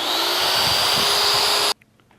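A Magswitch MagDrill Disruptor 30 magnetic drill runs with a loud, steady motor whine for under two seconds, then cuts off abruptly, leaving near silence.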